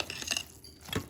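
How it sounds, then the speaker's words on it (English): A spoon scrapes and clinks briefly around a pot of sweet chakkarai pongal flavored with saffron and crushed cardamom, a quick, soft stir of a few strokes. "Quickly stirring this."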